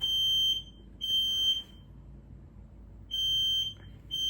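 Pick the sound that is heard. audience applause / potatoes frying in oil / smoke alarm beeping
smoke alarm beeping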